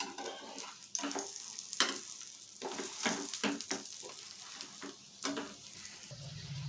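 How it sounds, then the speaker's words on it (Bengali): Steady sizzling of flour-and-lentil breakfast food frying in a pan over a low gas flame, with repeated scraping and stirring bursts throughout, close and fairly loud. "গ্যাসের ফ্লেমটা লো করে এইভাবে ভাজতে হবে"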